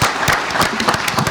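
A small group claps at a county board of education meeting, brisk uneven hand claps close by, filling the short moment alone.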